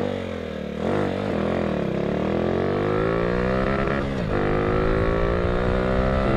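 Motorcycle engine with a dirty carburetor accelerating, a close, loud buzzing drone whose pitch climbs in repeated rising sweeps, dipping once sharply before revving up again.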